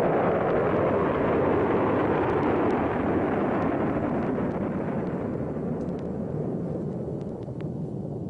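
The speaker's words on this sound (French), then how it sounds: "Les savants qui ont construit la bombe ont assisté à cette explosion." Atomic bomb test explosion in the desert, a loud continuous broadband roar and rumble that holds steady throughout and eases only slightly toward the end, with no voices.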